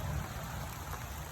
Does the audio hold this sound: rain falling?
yes